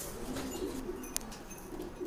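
Pet pigeons coo softly in a series of low, rolling calls close by, with one sharp little click breaking in midway; no voices are heard.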